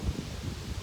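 Wind blows outdoors against a camera tripod, a steady low rumbling buffet with gusty swells that fill the whole short stretch, with no voices.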